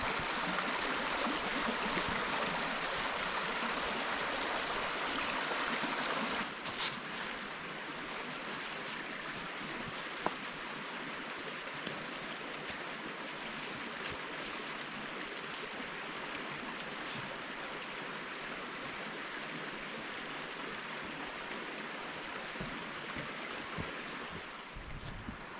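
Locust Creek runs steadily through a hemlock woodland at Locust Lake State Park in Pennsylvania, a broad, even wash of flowing water heard close and alone for the whole stretch, slightly louder at first.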